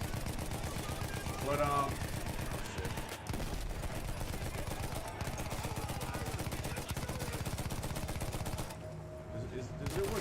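Battlefield 1 gunfire, rapid continuous automatic bursts in a dense steady rhythm throughout, loud and close, with a brief pause and someone speaking over it.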